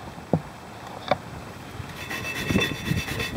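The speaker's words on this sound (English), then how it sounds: "Just take your wire brush, brush off all the rust." Wire brush scrubbing rust off a car's rear brake rotor: a few scattered scraping strokes early on, then steady, rhythmic bristle rasping close by, with no talk.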